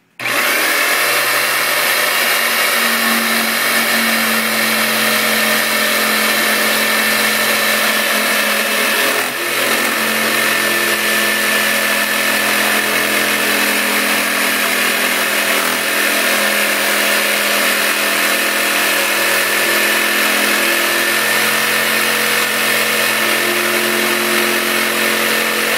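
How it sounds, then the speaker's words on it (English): Rockwell BladeRunner saw cutting through a pipe, a loud, steady motor whine with dense broadband buzz that holds continuously for the whole stretch with only a brief dip midway, no talk over it. "We're going to cut through this pipe now."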